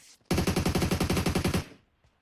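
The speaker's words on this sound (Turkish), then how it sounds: "Aha arkadan bir M249 da vuruyor." An M249 machine gun fires in PUBG Mobile: a loud, close burst of about fifteen rapid, evenly spaced shots that stops sharply and leaves a short fading tail.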